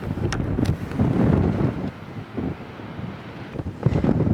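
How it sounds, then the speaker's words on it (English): Strong wind under clear skies in the Scottish Highlands buffets and roars in low gusts that rise and fall, rumbling heavily across the whole stretch with no voices. "it's just the wind which is making it pretty cold because the skies are clear and it's really windy"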